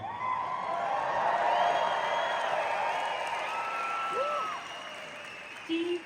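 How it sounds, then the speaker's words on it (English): Audience applause and cheering fill Royal Albert Hall at an Arnold Schwarzenegger Q&A, a large crowd clapping steadily with whoops and shouts over it, then thinning toward the end. "Do you ever get tired of applause"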